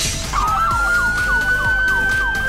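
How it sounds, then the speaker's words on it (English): Police car siren wails close and loud, a rising tone with rapid repeating yelps over a rumbling engine, no talk. "Police car."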